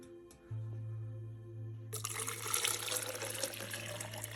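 Warm water runs from a tap into a 500 ml cup for jala neti nasal cleansing, a steady close pouring stream that starts after a low hum, with no speech.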